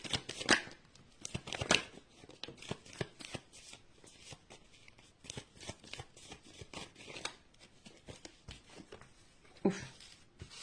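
A deck of tarot cards being shuffled up close, repeated riffling bursts and soft flicks in irregular clusters, with no talking.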